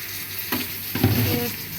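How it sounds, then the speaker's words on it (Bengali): Bitter gourd slices fry in a pan at home, giving a steady, fairly loud sizzle with a couple of brief stirring clatters partway through. "আর এখানে হচ্ছে উচ্ছে ভাজা"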